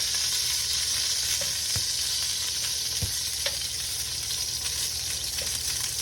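Italian sausages fry in a pan with a steady, close sizzle and crackle, broken by a few sharp clicks and taps as tongs turn them, with no talking.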